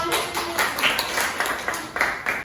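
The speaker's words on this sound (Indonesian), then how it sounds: "Beri tepuk tangan ya dong." Students in a seventh-grade classroom clap together in a short burst of rhythmic clapping, fairly close and lively, with faint voices mixed in.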